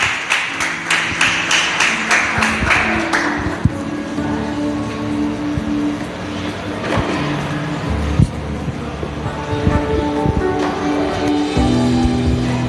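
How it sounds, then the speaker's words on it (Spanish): A church congregation applauds, starting with quick rhythmic clapping that then fades into a mix of scattered claps, murmurs and low room tones. "Entonces denle un aplauso al Señor."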